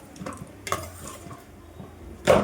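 Uttapam being flipped and roasted on a hot pan, with a few scraping and clattering utensil knocks over a faint sizzle and a louder scrape near the end.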